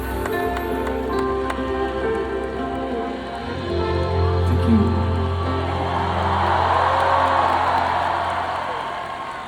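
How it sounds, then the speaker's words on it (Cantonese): At a band's 40th anniversary concert, live music plays into the final stretch, then a broad wash of audience applause and cheering swells up and holds. "多謝你嘅掌聲"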